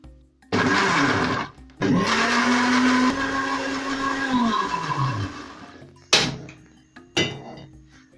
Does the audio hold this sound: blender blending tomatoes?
yes